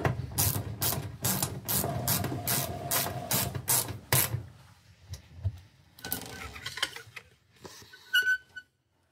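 A ratchet tightens an M10 bolt on a Miele washing machine in a quick run of crisp, evenly spaced clicks, then slows into scattered softer mechanical clicks and scrapes.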